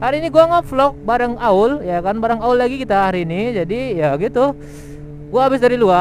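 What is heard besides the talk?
No everyday noises stand out.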